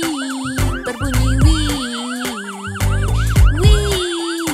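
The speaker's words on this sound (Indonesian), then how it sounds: "Sirene truk pemadam kebakaran berbunyi wiii, keliling kota." A wailing fire truck siren sweeps up and down repeatedly in a steady rhythm, loud and close, set within a children's song with music and a sung melody underneath.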